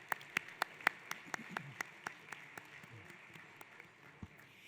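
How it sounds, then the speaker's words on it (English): Sparse, scattered clapping from an audience at a senior volunteer awards ceremony at Fantasy Springs Resort Casino, a dozen or so distinct claps ringing out in an uneven rhythm before trailing off, fairly faint and thin in a large room. "let's give them a round of applause, please."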